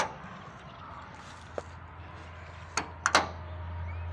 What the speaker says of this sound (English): One gentle little pull, the door kicks right on open.